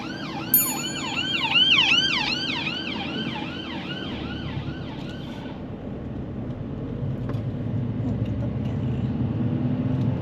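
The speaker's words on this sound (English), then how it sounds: "oh yep, ambulance" An ambulance siren wails in a rapid rising-and-falling pattern for several seconds, heard from a car on the road, then fades away, leaving road and engine noise.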